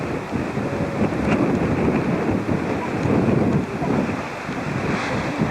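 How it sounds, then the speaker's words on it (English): Strong coastal wind buffets the microphone at Red Bluff Point near Kalbarri, Western Australia, a continuous rushing roar with gusty surges and ocean surf blended underneath. "Very windy up here"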